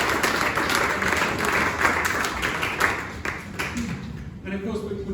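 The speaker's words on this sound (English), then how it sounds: "So round of applause for them." A crowd claps for athletes' new records, including a ladies decathlon record, at a club news event; dense, lively applause fills most of the moment, thinning near the end, with some voices mixed in.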